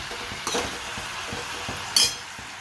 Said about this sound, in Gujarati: બહુ સાચવીને આપણે હલાવવાનું છે તો સરગવો સરસ ક્રિસ્પો થઈ જશે.